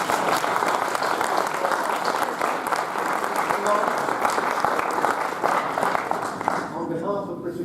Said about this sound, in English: Please, a big round of applause for Chris.